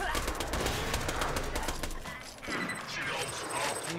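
Submachine gun fire in Borderlands 2, played as a Siren, a fairly steady run of loud close shots with a short lull midway before firing resumes.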